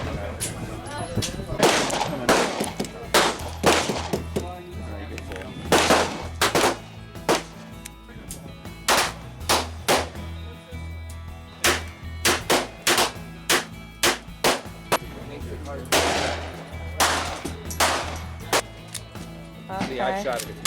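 Pistol shots ring out at an indoor-style gun range, sharp loud single reports spaced irregularly, some in quick pairs, with short pauses between strings and echoing decay after each.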